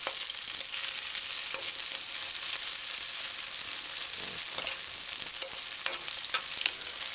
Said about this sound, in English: Add about 3 to 4 tablespoons of coconut oil, and then add the seasoning and allow it to saute